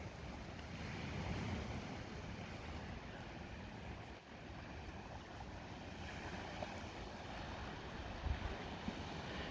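Strong winter wind blowing hard along the coast, a dense, continuous roar of gusts buffeting the microphone with faint surf underneath and no talk.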